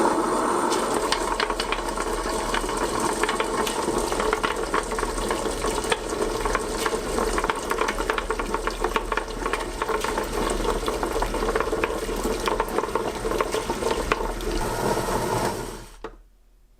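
Soaked urad dal and water churn in a tabletop wet grinder, giving a loud, steady mechanical grinding and sloshing that runs without a break for about sixteen seconds before the machine abruptly stops.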